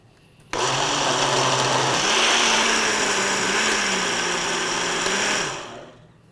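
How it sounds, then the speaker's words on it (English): A blender runs steadily for about five seconds while blending gazpacho soup. It starts abruptly, holds a loud, even whir that shifts pitch slightly partway through, then winds down. "I am going to start the blender, and I'm going to blend it until it's well mixed,"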